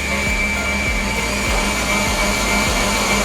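An electric mixer whirs steadily while whipping dessert cream toward soft peaks, a loud continuous motor drone with faint rhythmic beater scrapes against the bowl.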